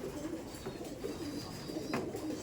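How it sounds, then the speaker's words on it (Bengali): Madrasi pigeons in a loft giving low, overlapping coos, fairly faint and continuous, with a busy background of birds throughout. "এই দেখুন সব প্রচুর ধরনের পায়রা আছে"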